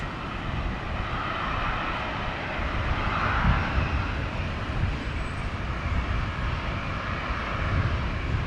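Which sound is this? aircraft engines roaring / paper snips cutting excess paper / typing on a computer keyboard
aircraft engines roaring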